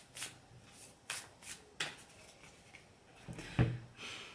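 Tarot cards being shuffled by hand in a series of quick riffles and soft slaps, about half a second apart, close and fairly quiet, with no talking.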